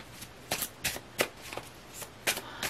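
Tarot cards shuffled by hand in a handful of short, crisp bursts close to the mic, each riffle separated by brief pauses, with no talking over them.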